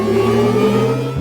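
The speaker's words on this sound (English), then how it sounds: "These are elements of the Audi R8 e-tron sound" Synthetic engine sound of an Audi R8 e-tron with the gas pedal fully depressed: a steady, loud electronic whirring drone with layered tonal hum, holding nearly constant and shifting slightly at the very end.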